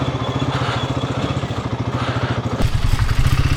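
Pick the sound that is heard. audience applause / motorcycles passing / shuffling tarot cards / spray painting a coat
motorcycles passing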